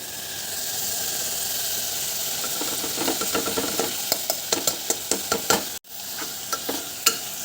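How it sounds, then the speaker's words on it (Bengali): Rice tipped into a hot cooking pot sets off a steady sizzle, then a run of rhythmic scraping stirs with a sharp knock near the end, frying hiss carrying on underneath. "এবার আমি এই চালটা দিয়ে দেবো ওর মধ্যে।"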